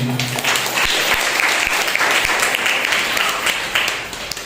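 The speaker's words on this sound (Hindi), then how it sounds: "आइए हम उस सच्चे और जिंदा परमेश्वर के लिए जोरदार ताली बजाएं।" A congregation at a Sunday morning church service bursts into loud, dense applause that fills the room and holds steady for several seconds, with a sustained musical note at the very start.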